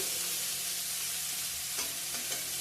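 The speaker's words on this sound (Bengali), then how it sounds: "পেঁয়াজ দিয়ে দেবো এখন" Onions added to a pan of frying bitter gourd crackle in a dense, steady sizzle, with a couple of faint stirring taps near the end.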